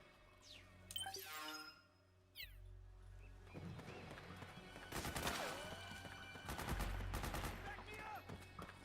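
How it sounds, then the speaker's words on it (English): Bursts of automatic gunfire from the Metal Gear Solid 4: Guns of the Patriots video game, starting sparse, then building into dense, sustained volleys with voices and shouting mixed in. "Suppressing fire."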